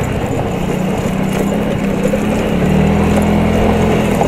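An Insetto 125 scooter rides off-road, its engine droning loud and steady up close with a slight rise in pitch toward the end and no speech.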